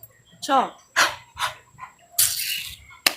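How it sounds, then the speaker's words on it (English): A dog barks in the background, a run of sharp barks and yips in uneven bursts, with a person speaking briefly between them. "Guys, I'm so sorry about the dog in the back."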